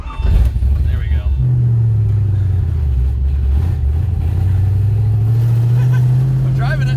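A widebody Porsche 911 with a big cam rumbling low and lumpy while being driven, a loud steady engine drone heard from inside the car, with voices over it.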